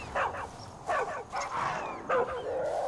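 A dog in the Far Cry 5 game gives a series of sharp barks and yips, about five separate bursts in irregular rhythm, fairly close against a quiet background.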